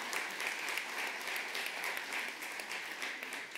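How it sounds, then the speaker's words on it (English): Dense audience applause fills a chapel service, a steady wash of many hands clapping at moderate distance throughout, with no talking over it. "a real round of applause for Shelley."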